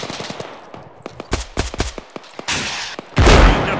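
Arma battle gunfire, scattered sharp shots and short bursts, some near and loud, others more distant, ending in a heavy close blast, no talk.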